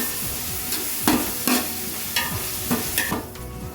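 Ingredients frying in oil in a pot for chicken biryani, a steady close sizzle broken by several sharp stirring scrapes spaced through the stretch, with no talk.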